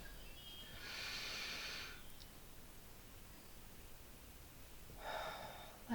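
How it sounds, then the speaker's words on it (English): A person with a lingering chest cold takes a slow deep breath in through the nose, then a second breath a few seconds later, close and soft with quiet pauses between. "I'm going to take a deep breath"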